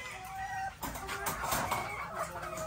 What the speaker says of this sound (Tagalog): marami pa tayong pulit dito na Golden Boy sweater